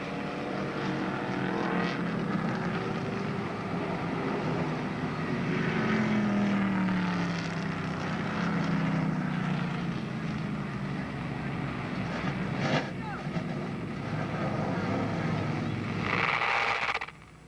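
Race cars circle the oval at Monadnock Speedway in 1992, a continuous engine drone at moderate distance rising and falling as cars pass over about seventeen seconds.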